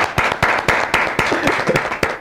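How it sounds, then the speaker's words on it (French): Studio audience clapping for contestants on a televised quiz show, with a steady rhythmic clap in regular beats and a faint voice briefly underneath. "Je vous applaudis."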